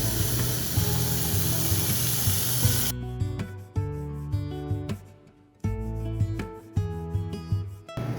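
Bacon sizzling in a hot pan, a loud continuous hiss that abruptly thins into intermittent crackles and spitting bursts with brief near-silent gaps.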